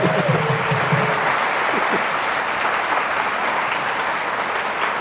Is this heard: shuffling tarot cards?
no